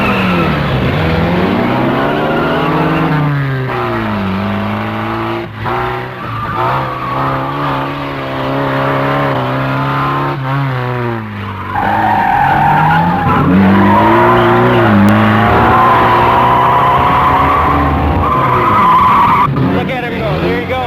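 A car drives hard with screeching, skidding tyres and engine sweeping up and down through repeated runs, loud and continuous, with people talking over it.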